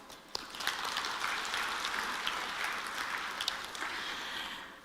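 A crowd applauds at the Korea University International Winter Campus welcome ceremony with sustained, fairly loud clapping and crisp individual claps, and no one talking.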